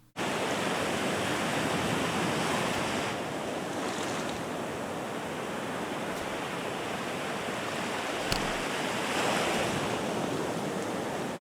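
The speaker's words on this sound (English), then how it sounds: "It's another running water background noise." Steady running-water ambience from the Papercut Art Gallery video game, a continuous broadband rush like flowing water or surf that holds at an even, fairly loud level for the whole stretch with no talk over it.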